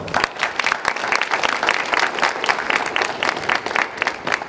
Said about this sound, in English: Let's give Carl and Stacey a real round of applause here